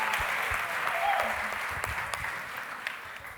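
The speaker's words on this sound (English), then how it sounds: "Let's give a clap offering to that." Church congregation clapping in appreciation of the projection team, a steady wash of applause with a few sharper claps and some voices underneath.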